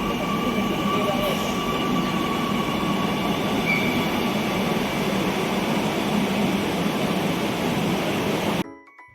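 A passenger train rolling along at speed, its wheels and carriage producing a loud, steady rumble with a faint squeal on the rails, continuous for most of the clip before it cuts off abruptly.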